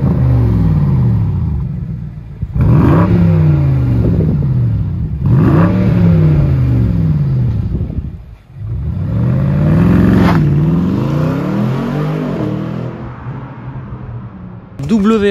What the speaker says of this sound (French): Est-ce que ce V8 chante aussi bien qu'on pourrait le croire?